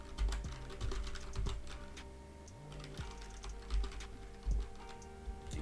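Close-up clicking of a computer keyboard as code is typed, quick irregular keystrokes in short bursts over a low steady hum.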